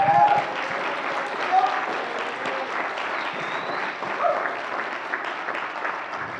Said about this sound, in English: So one more time, give them a round of applause.